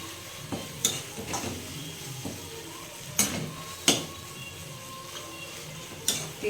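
Peanuts fry in oil in a pan, a soft continuous sizzle broken by several sharp scraping and stirring strokes against the metal, close and moderately quiet with no talking.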